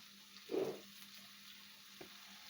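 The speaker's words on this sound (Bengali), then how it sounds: "এটাকে ভালোভাবে নাড়াচাড়া করতে হবে, না হলে কড়াইতে লেগে যাওয়ার সম্ভাবনা থাকবে।" Ridge gourd mash stirred in a wok over a high flame: one brief, faint scrape of the spatula, then a quiet hiss and a single soft tap later.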